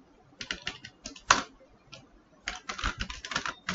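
Typing JavaScript code on a computer keyboard, with two bursts of rapid, close key clacks and a single louder keystroke between them, all without talk.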